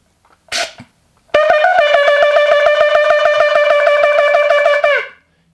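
After a short noisy burst, a single loud, sustained shofar blast sounds, bright and buzzy with a slight scoop at the start, holding for several seconds before cutting off.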